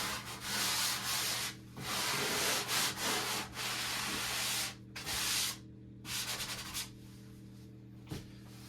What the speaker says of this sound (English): take a sand pan or a sand sponge and just kind of wipe over any edges, smooth it out best we can